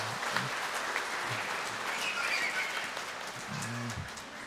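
A church congregation claps loudly together in a dense, continuous burst of applause that carries through the clip, with a few faint low vocal sounds beneath it.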